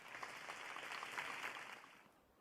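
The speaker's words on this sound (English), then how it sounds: "Everyone bursts into applause for Privity." Crowd applause after a new-semester speech in the video game Goddess of Victory: NIKKE, a steady patter of many hands clapping, fairly quiet and even, fading out toward the end.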